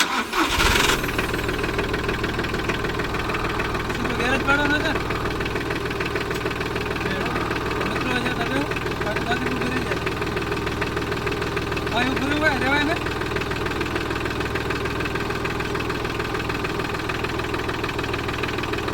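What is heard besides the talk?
small tractor engine starting and idling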